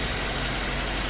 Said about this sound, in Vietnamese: máy chạy rất là êm luôn